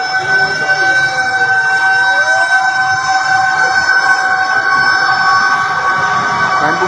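Fire truck sirens wailing at a blaze in Ilaya, Divisoria, Tondo, Manila, a loud continuous steady tone with overlapping siren layers and a rising sweep, under background crowd noise.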